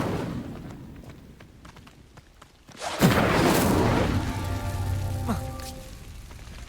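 An Incendio fire spell in Hogwarts Legacy bursts out with a sudden whooshing blast midway through, then crackles and hisses as flames linger, the burst sharp and close after a quieter lead-in.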